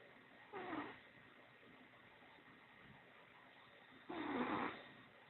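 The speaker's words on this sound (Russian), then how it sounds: "Вот так и храпит" A tired cat snores softly nearby, two slow, faint breathy snores a few seconds apart over a quiet background hiss.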